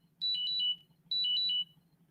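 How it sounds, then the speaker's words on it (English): Two short bursts of a trilling electronic alarm tone, each under a second long and separated by a brief gap, faint against a low background hum with no talk. "My alarm went off."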